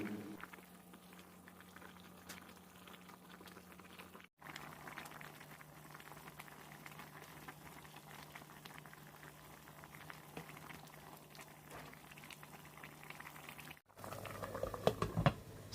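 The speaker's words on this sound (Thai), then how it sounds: "ต้มต่ออีกสักครู่ก็ปิดเตาได้ครับ" Vegetarian bitter melon and pickled mustard green soup boils in a pot, a steady bubbling simmer with soft popping and liquid patter, fairly quiet and close, continuing with brief cuts in between.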